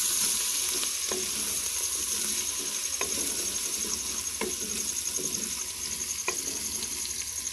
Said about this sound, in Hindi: अब हम इसमें अदरक लहसुन पेस्ट डालेंगे। इसको भी 1 से 2 मिनट के लिए हम भून लेंगे।